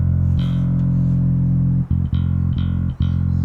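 Stingray 5-string bass played fingerstyle through a plugin with no EQ applied, a loud sustained low note held for nearly two seconds, then several shorter plucked notes with brief gaps between them, heard alone.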